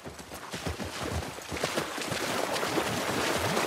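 Horse hooves clip-clop in The Last of Us Part II, a rapid run of soft thuds over gusty outdoor wind.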